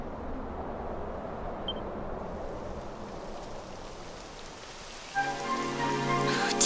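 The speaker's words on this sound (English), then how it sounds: "It would have to go and start raining, wouldn't it?" Rain falls in Dragon Quest XI Echoes of an Elusive Age Definitive Edition, a steady hiss of drops on surfaces that swells louder near the end as a tonal layer of game music joins.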